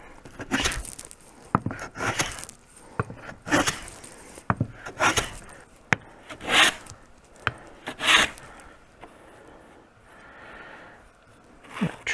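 Rough saw cuts on a wooden keepsake box are hand-filed or sanded smooth in a string of close, rasping strokes that come in uneven bursts with short pauses between them.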